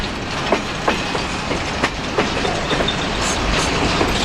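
Empty freight train cars, including tanker cars, rolling past close by with a continuous rumbling roar and regular clickety-clack wheel thumps, loud and steady with no talk.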